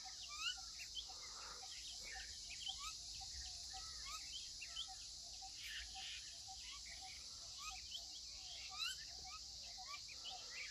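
A parakeet calling while feeding in Udawalawe National Park, giving short, faint chirps and tweets scattered irregularly over a quiet outdoor background with a steady high insect drone.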